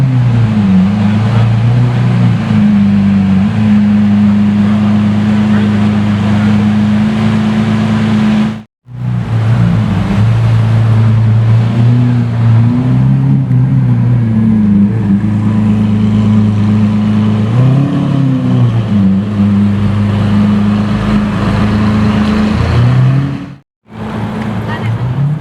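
Straight-piped Lamborghini Murcielago LP640 revving hard, a loud raw engine roar that swells and dips through repeated revs, cut off by two brief silent gaps, with people talking around it.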